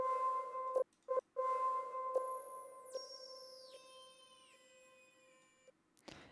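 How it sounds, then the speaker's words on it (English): A synth key one-shot from the B1 kit plays with no envelope, its bright sustained tones holding steady while a sequence of falling, gliding notes rings out alone before cutting off abruptly. "So the key originally sounds like this"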